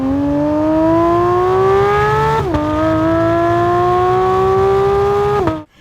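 A Porsche GT3 engine revs loud and close, its pitch climbing steadily, dipping briefly at a shift, then climbing again before cutting off abruptly.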